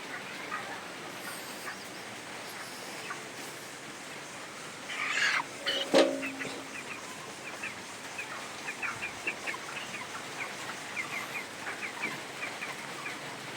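A chicken on a farm clucks while feeding, quiet scattered clucks with a brief louder flurry partway through, set against a low, steady ambient background.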